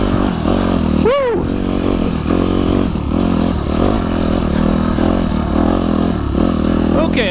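A dirt bike engine drones loud and close while riding a forest trail, its pitch shifting with a downshift and bumps, and a rider's voice speaks over it.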